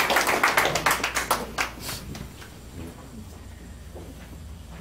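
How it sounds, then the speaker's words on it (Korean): A council audience at a Chungbuk provincial assembly education committee overseas-training report meeting claps in a brief burst of applause that fades within about two seconds, leaving quiet room noise. "박수로 맞아주시기 바랍니다."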